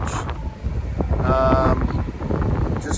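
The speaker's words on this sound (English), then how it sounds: "A little windy today, so I hope you can hear me." Wind gusts across a freshwater beach, a steady low roar that buffets the microphone for the whole stretch and swells briefly near the middle.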